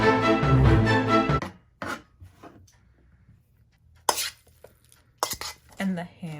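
A knife slices hard-boiled eggs on a cutting board, giving a few sharp, separate taps after a stretch of close talking.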